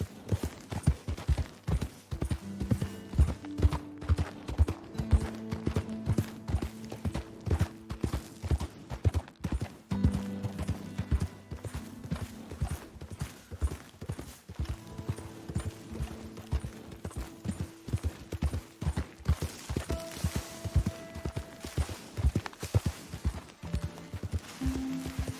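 Horse hooves clip-clop steadily in Red Dead Redemption 2, a regular walking rhythm across the whole stretch, fairly quiet, with occasional tonal game sounds and a brief whinny-like note.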